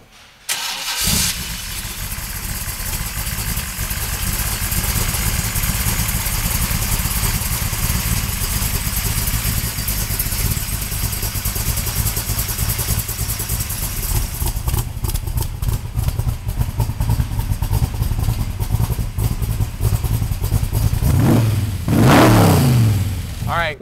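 A 1965 Shelby Cobra V8 cranks and fires up near the start in freezing weather, then rumbles loudly at idle, with sharp revs swelling near the end.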